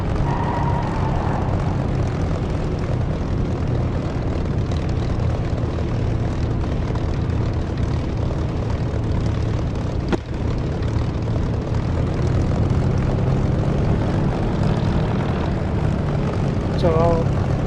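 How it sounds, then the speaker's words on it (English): Steady propeller drone of a P-51 Mustang piston engine in the DCS flight simulator, a continuous near roar holding through the whole stretch with a brief dip midway; faint speech sits under it. "Do you hear that increased engine sound?"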